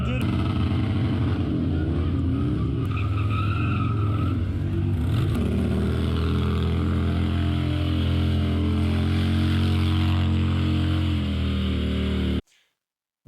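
A Harley-Davidson or Indian motorcycle rides along with a continuous, loud low engine drone and steady road and wind rumble, shifting slightly in pitch, then cutting off abruptly near the end.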